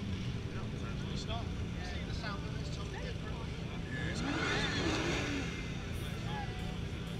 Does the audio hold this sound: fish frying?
no